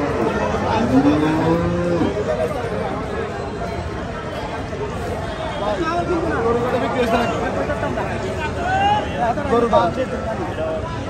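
Cattle moo repeatedly at a livestock market at Fakira Bazar selling bull calves, the long lowing calls rising over a steady crowd hubbub with people chattering throughout.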